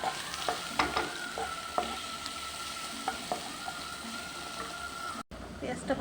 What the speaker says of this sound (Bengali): এদিকে পেঁয়াজটা ভেজে নেব